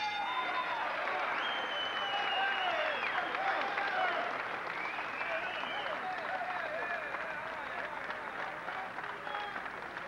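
Boxing arena crowd after the Iran Barkley versus Osley Silas bout, steady broad applause and cheering from a large audience filling the whole stretch, with a commentator talking over it.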